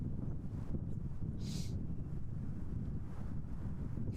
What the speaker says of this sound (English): Gusts are so strong.